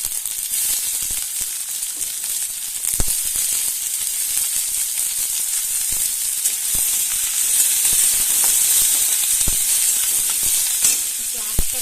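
Chopped onions sizzle steadily in hot oil for a fish kaliya, a dense continuous frying hiss with occasional sharp pops and spatters, close and fairly loud throughout with no talking.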